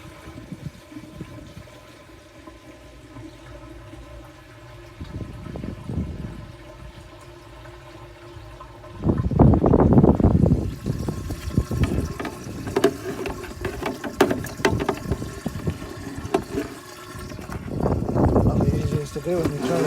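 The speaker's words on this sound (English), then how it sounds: "That's the first barrel full, second one filling up" Water pours and splashes into a second plastic filter barrel of a DIY three-barrel koi pond filter being test-run, a steady rushing fill that swells louder midway, with a person talking nearby.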